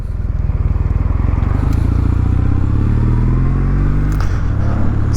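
A 2023 Kawasaki W800 800cc twin-cylinder motorcycle engine idles with a steady, throbbing pulse, then revs up and settles, loud and close throughout.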